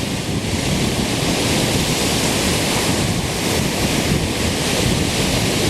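Waves break on 12 Mile Beach along the Pictured Rocks lakeshore before sunrise, a loud, continuous roar of surf mixed with heavy wind buffeting, no voices.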